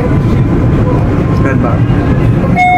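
Steady low rumble of a KRL commuter train in Jakarta heard from inside the carriage, continuous and fairly loud throughout, with a faint tone near the end.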